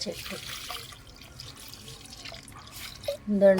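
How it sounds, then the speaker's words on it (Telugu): Liquid fertilizer pours and trickles into potted-plant soil with soft dripping, fairly faint, as a voice speaks briefly near the end. "సో అక్కడ కూడా వాటర్ ఇస్తున్నాను"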